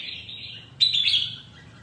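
A caged wild-caught songbird, recently caught and somewhat weak, gives a thin sustained chirp followed by a sharper, louder trill, close and clear over faint background noise.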